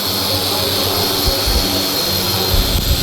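A dual action car polisher runs at full speed with a loud, steady, high whirring drone and a faint rumbling underneath, recorded up close.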